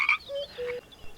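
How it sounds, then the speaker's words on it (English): A frog gives a few short croaking calls, close and clear, in a quick irregular sequence against a quiet background. "A frog."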